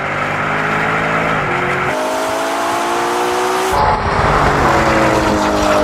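A Ferrari Purosangue and a Lamborghini Urus in a drag race, with loud, sustained engine roar climbing through the revs, an audible gear change and tire noise, close and continuous.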